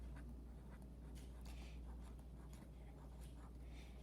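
A pen writes a single word on the last page of a journal near the back cover: soft, continuous scratchy strokes over a steady low hum, close and quiet, with no talking.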